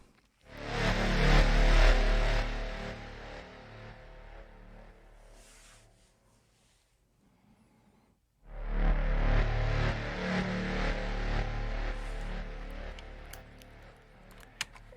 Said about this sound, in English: I like to use it low, and it has this pulsing grind to it.